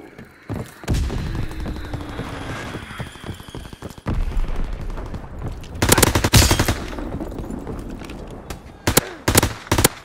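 MP40 submachine gun fire in a video game, short rapid bursts with booming shots and louder clustered volleys toward the end, mixed with other game effects.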